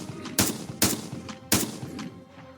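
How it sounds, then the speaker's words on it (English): Three sharp gunshots ring out at irregular intervals, loud and close, each followed by a short echoing tail. "But repeated loud bangs are much more likely to be gunfire."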